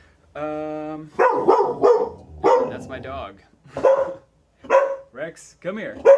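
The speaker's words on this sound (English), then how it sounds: "That's my dog." A dog barks at the start, a single sustained tonal yelp, followed by someone speaking closely over several short phrases.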